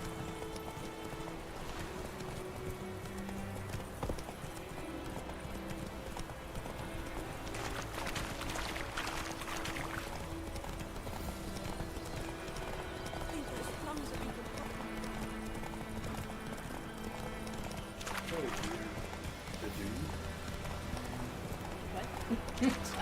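Horse hooves clip-clop at a steady galloping rhythm as a rider travels in The Witcher 3, set in a dense, continuous game soundscape with voices talking over it.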